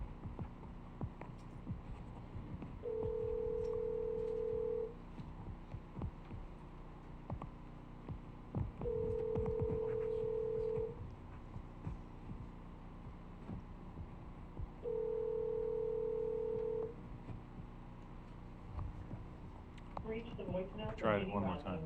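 A telephone rings during a county board of commissioners meeting: three long, evenly spaced electronic ring tones over a low room hum, with brief faint voices near the end.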